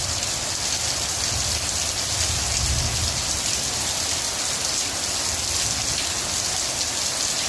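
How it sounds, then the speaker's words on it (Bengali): Heavy rain falls outside, pouring and pattering on surfaces in a dense, continuous roar that stays even from start to finish, with no voices. "বৃষ্টি হইতেছিল"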